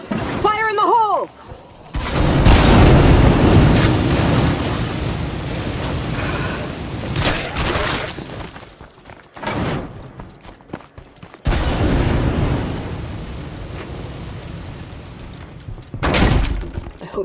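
After a thrown explosive goes off in a zombie survival video game, a loud blast and breaking, shattering debris follow. The roar swells and dies away in several surges, with a voice speaking early on and again later.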